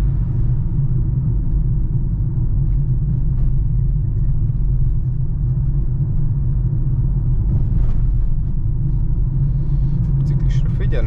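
Steady road rumble from a Citroen e-Berlingo electric van cruising along a road, a constant low drone with no engine revving, while a person talks over it.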